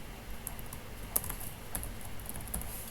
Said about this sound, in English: So let's type here, enter the question.